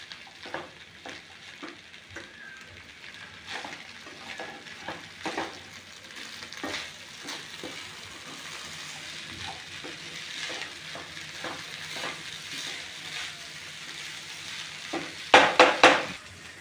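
A masale bhat mixture with salt is stirred in a pan, giving repeated scraping strokes at a steady, unhurried rhythm over a soft sizzle, with a few louder metallic scrapes near the end and no talk.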